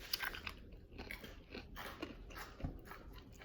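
Crunchy soy garlic snack being bitten and chewed up close, several crisp crunches in an uneven rhythm over a few seconds, with no talking.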